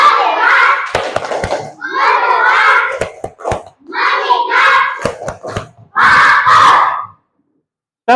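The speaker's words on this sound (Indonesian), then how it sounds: "Tepuk fokus." A classroom of children performs a clapping chant, voices shouting the rhythmic words together, with sharp hand claps punctuating the phrases in quick bursts, all fairly close and loud.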